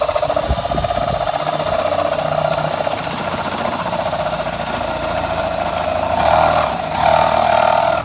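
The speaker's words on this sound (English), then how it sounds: "you're going to drill it out" A power drill with a 1-inch bit whirs steadily at high speed for several seconds, its pitch straining and rising briefly near the end as it bores through wood.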